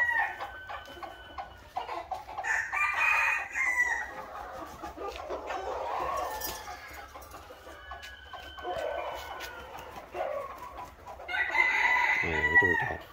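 Roosters crow repeatedly from moving and training pens on a chicken farm, loud, drawn-out calls in several bursts, with softer clucking from other chickens between them.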